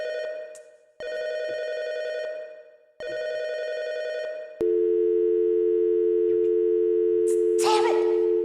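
A telephone busy signal in the Circus Baby's Diner video game, two repeated beeping tone bursts followed by a long continuous dial-style tone, loud and close with no talking.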